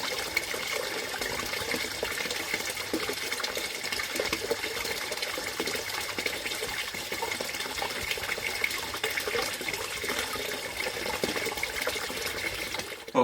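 Water runs over a pond's waterfall blade cascade feature, making a steady, even splashing and gushing that continues unbroken and fairly soft, with no voices.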